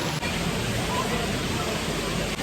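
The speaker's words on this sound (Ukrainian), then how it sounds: "Вода шумить." Water rushes at an aquapark in Kremenchuk, a steady, hissing roar of falling and splashing water that stays constant and fairly soft for the whole stretch.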